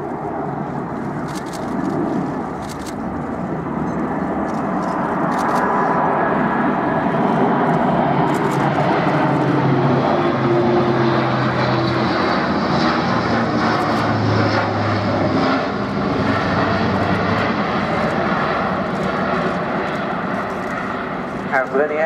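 Airbus A400M military transport aircraft with undercarriage down making a flying display pass at an air show, its loud propeller-engine drone rising and sustained throughout, with a commentator talking over it.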